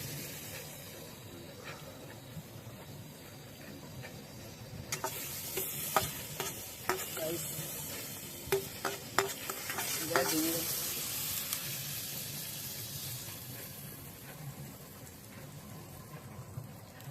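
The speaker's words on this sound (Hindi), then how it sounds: "हमने बटर ऐड कर दिया है इसमें।" Amul butter melts in a pan over an outdoor riverside cooking fire, a quiet, steady sizzle broken by clusters of faint ticks and pops.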